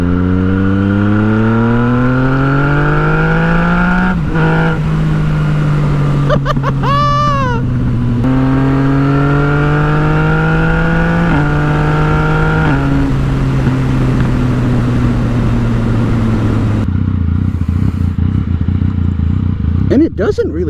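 A tuned 2017 Yamaha FZ-09/MT-09 motorcycle engine lugging in third gear from low speed, its deep droning note climbing slowly then dropping with gear changes, loud and close with wind rush throughout.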